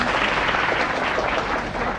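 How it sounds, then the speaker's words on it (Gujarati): Dense, steady applause from an audience at a school gathering in Ramnagar village, many hands clapping loudly together without a break for about two seconds. "જોરદાર તાળીઓ"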